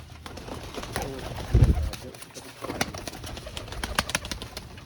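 Several pigeons coo in repeated soft rolling calls among clicks and rustles of handling, with brief muffled voices in the background.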